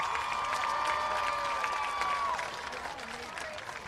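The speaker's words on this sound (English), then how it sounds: "Round of applause for your middle school volleyball teams." Applause and cheering from a crowd at a school football event honoring middle school volleyball teams, a steady broad roar of clapping with a whistle-like tone over it, fading slightly toward the end.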